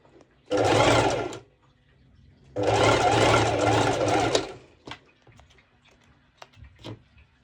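A sewing machine stitches the bust seam of a halter neck top in two clear bursts, the second longer, followed by light clicks and handling noises.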